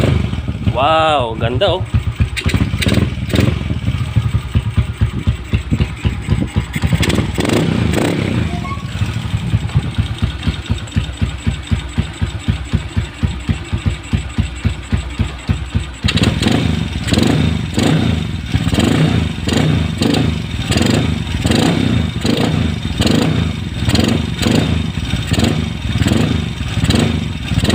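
A motorcycle engine, freshly carburetor-cleaned, starts on a single push and settles into a steady idle with repeated throttle blips, close and loud, while a person briefly exclaims over it.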